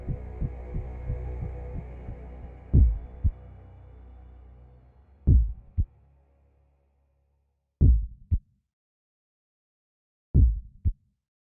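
A low, muffled heartbeat thuds in paired beats, at first under a dull hum, then alone and more widely spaced, slowing toward silence.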